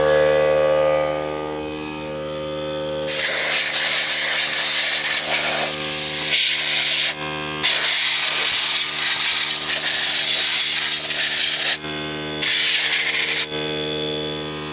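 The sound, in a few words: compressed air from air compressor blowing dust out of space heater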